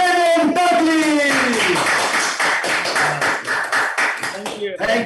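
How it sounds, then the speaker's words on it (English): A crowd at a peace festival claps for a regional president, scattered rhythmic claps starting under a loud voice and continuing as the speech drops away, with voices mixed in. "please put your hands together and once more give a round of applause to our regional president, Damian Dudley."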